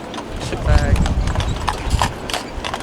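Horse hooves clip-clop on a street in Saint Petersburg, a run of quick uneven strikes close by, with a voice talking over them.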